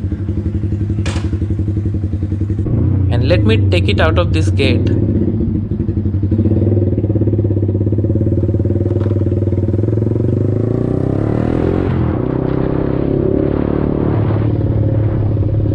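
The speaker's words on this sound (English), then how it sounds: "my second motorcycle, Yamaha R15 with the Proliner full titanium MotoGP inspired exhaust, and it is quite a loud thing" A Yamaha R15 motorcycle fitted with a Proliner full titanium MotoGP-style exhaust runs close by with a loud, throaty, steady engine note. Someone speaks briefly over it, and the tone shifts slightly as the engine is revved near the end.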